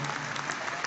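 Brief burst of crowd clapping during a high school graduation valedictorian speech, a steady, fairly soft wash of many hands.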